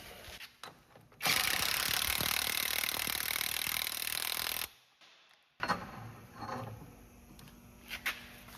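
A ratchet loosens the axle nut on a 2010-2022 Lexus RX350 during an AWD rear bearing job, making a loud, close, continuous rapid clicking burst of about three seconds, followed by quieter clicks and handling noises.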